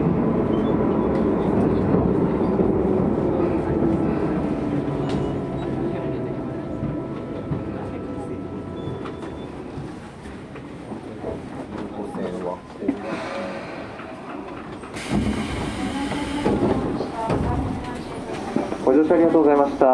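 A Tobu 20000 series train on the Hibiya Line rumbles out of service toward the depot at Naka-Meguro terminus. Steady wheel and motor noise is overlaid by station announcements and voices, louder toward the end.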